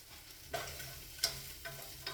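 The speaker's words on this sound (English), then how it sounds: "just letting the sausages fry up so they go crispy on the outside" Sausages with pineapple fry in a pan with a soft, constant sizzle, punctuated by a few sharp wooden-spoon taps and scrapes, quiet and close.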